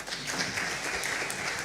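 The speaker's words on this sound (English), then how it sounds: "another round of applause for" Audience applause at a wildlife scientific conference, a soft, even patter of many hands clapping, heard at moderate distance with no break.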